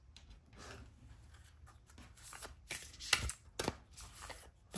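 Tarot cards are shuffled and drawn by hand, giving a run of soft, quiet riffling and sliding bursts with brief pauses between them, close by, with no talking.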